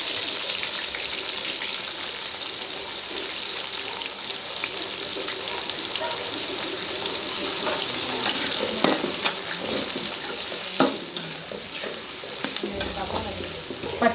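Sliced onions fry in a pan for a Chettinad mutton liver pepper fry, giving a steady, close bright sizzle with occasional stirring scrapes and clinks throughout.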